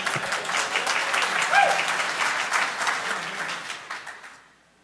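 Audience members at a Defcon hacking talk break into applause, a steady, moderately loud patter of many hands with a short vocal whoop partway through, before it dies away near the end.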